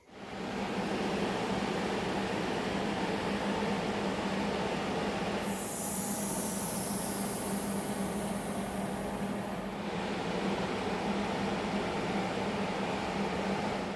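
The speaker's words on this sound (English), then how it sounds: "I'm going to tack weld that in there now" Tack welding a metal body panel piece produces a steady, close crackling hiss that runs throughout, with a sharper, brighter burst of arc noise in the middle.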